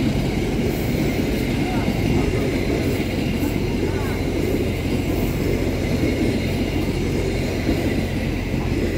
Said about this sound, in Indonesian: kereta api Lodaya sudah melintas di stasiun Ciawi